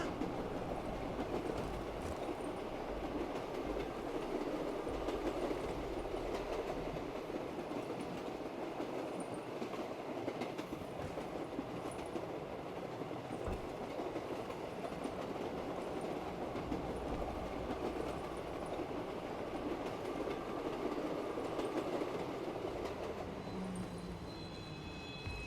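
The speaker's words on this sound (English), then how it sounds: "the train always takes us where we need to go" Inside a zombies video game, a train rolls steadily along its rails with a continuous low rumble and faint rhythmic clatter, holding an even level throughout with no talking.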